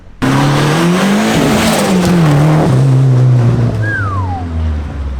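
A turbocharged car engine with a recirculated wastegate revs hard and climbs in pitch, then drops and stutters as if hitting the rev limiter, loud and close, with a brief squeal.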